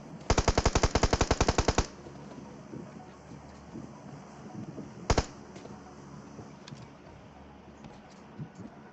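Automatic weapon fire in the PUBG Mobile battle royale game: a rapid burst of about a dozen loud shots at the start, then a brief double shot midway, over a low background rumble with no talking.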